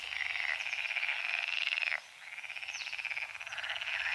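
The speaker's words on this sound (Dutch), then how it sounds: "Het zijn allemaal kikkers." Dense chorus of frogs croaking loudly and continuously at night, a steady rapid pulsing that drops away briefly before swelling again, with no talking over it.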